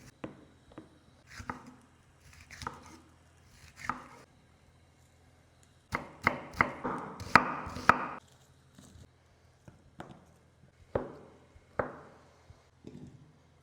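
A knife chops coloured peppers, hot pepper, onion and three tomatoes on a board, with crisp close cuts in uneven bursts, a quick flurry in the middle, then sparser strokes.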